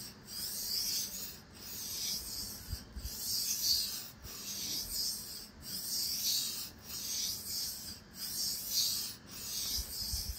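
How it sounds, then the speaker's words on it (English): An old kitchen knife drawn along a whetstone, its bevel grinding in long, even rasping strokes repeated about every second and a half, close and steady with short pauses between passes. "You hear the stone working on the bevel throughout the entire stroke"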